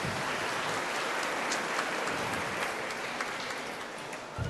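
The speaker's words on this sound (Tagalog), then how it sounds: "Pumalakpak ng malakas." A church congregation at a Filipino mass claps together, a steady wash of applause at moderate level that holds for the whole stretch with no voices over it.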